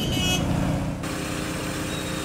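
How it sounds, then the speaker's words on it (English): A truck arrives at a cranberry bog during harvest, its steady engine rumble loud and close, with a brief horn-like tone near the start under continuous broadband noise. "here comes the truck"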